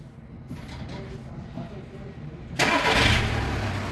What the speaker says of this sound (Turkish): Arabayı çalıştırır mısın?